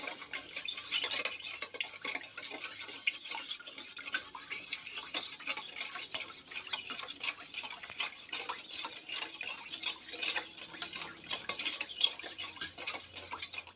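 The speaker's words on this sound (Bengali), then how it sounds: "তো চিনি আর দুধটাকে ভালো করে ফেটাতে হবে আগে।" A utensil stirs and whisks milk and sugar in a metal tiffin bowl, giving a steady run of quick, close scraping and clinking strokes that carries on without pause and with no talk over it.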